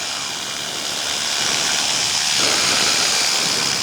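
A paramotor engine drones steadily in flight near a highway around Bungendore, a continuous buzzing roar with broad hiss that swells slightly louder partway through, with no voices.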